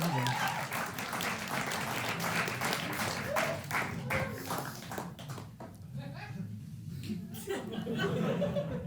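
A stand-up comedy audience breaks into scattered applause mixed with chuckles and laughter, moderately loud clapping that thins out midway and then swells again, with some voice sounds under it.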